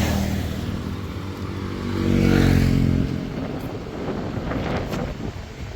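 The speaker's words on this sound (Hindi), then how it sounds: "तो अभी तेज़ हवाएं चल रही हैं।" Steady, blustery wind roars across the microphone near the Kosi River, swelling in a strong gust midway, with no voices.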